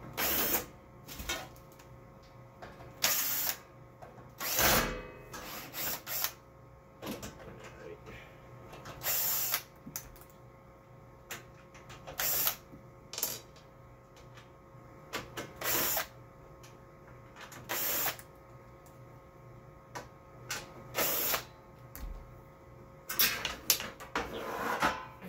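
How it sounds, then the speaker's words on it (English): Cordless power drill backing screws out of a shelf in a home lab, repeated short whirring bursts spaced a few seconds apart, close, with clicks and handling noise between them. "So I'm gonna get my drill and go ahead and undo this shelf"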